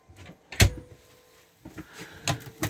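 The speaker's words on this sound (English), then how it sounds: "Cupboards simply just open like any cupboards" Cupboard doors opening inside a 2018 Laika Kreos 4012 motorhome, heard as quiet clicks and soft thumps of latches and hinges, with a sharper knock early on and a few more clunks near the end, close by and without talk.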